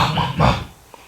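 A man preaching at a Sunday church service imitates a dog barking with his voice, giving two quick gruff barks close to the microphone before trailing off.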